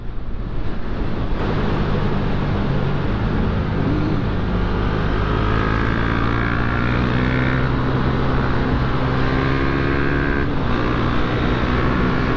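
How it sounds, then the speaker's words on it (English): A KTM Duke motorcycle on the road, its engine droning steadily and loudly under heavy wind rush, with rising and falling gear tones as it accelerates along a twisty route. "Guys, bike sounds good."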